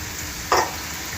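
Mango rava pulihora ingredients fry in a pan with a low, steady sizzle, broken by one short, brighter burst of crackle partway through.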